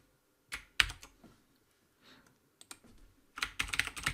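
Typing on a computer keyboard comes in short bursts of sharp key clicks, with a quiet gap in between and then a faster run of keystrokes, close and crisp.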